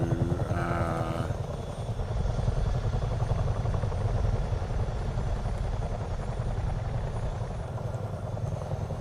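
A Chinook helicopter in Microsoft Flight Simulator 2024 drones with a steady heavy rotor thump and engine rumble, continuous and loud throughout, with a brief tonal chime early on.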